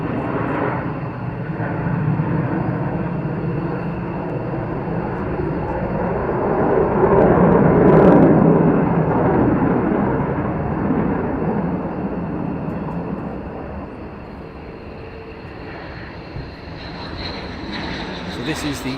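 F-35 fighter jets arriving at RAF Lakenheath: a loud, steady jet roar that swells to a peak around the middle and then eases off while staying present throughout.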